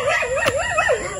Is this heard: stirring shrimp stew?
no